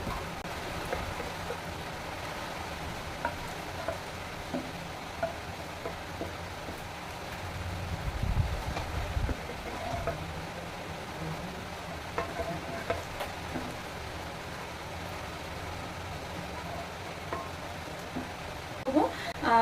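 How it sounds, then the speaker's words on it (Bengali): Pangasius fish and potato curry bubbles in a pan, a soft continuous simmering sizzle with faint stirring and occasional clinks, low and steady throughout. "দেখুন তরকারিটাতে কিন্তু খুব সুন্দর একটা বলক চলে আসছে।"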